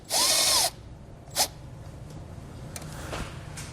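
A cordless power tool whirs in one loud half-second burst to loosen a hose clamp on the turbo pipe of a 2017 Honda Civic, followed by a short clink and faint handling noises.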